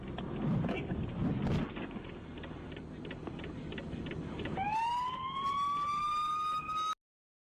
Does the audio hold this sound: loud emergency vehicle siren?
yes